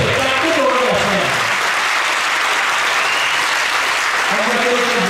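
A crowd applauds four players after a women's 75+ doubles match in Saguenay: dense, sustained clapping that fills the whole stretch, with an announcer's voice faintly under it at the start and end.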